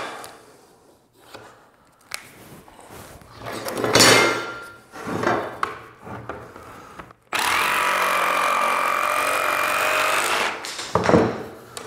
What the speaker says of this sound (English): I would use a jigsaw for everything that I cut on this.